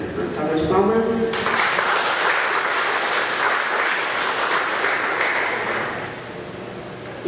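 Audience applause at the opening ceremony of a national academic symposium in Brazil, a dense steady clapping that rises after a brief spoken introduction and holds loud for several seconds before tapering slightly.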